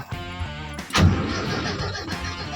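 A car engine with a repaired distributor, fitted with a pickup coil taken from a new unit, is cranked: a short starter whir, then a louder churning burst that fails to catch and fades, close by.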